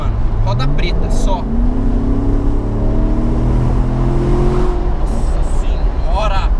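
A Corvette accelerates hard, its engine note rising in a long sweeping climb and holding loud and close, with excited voices talking over it.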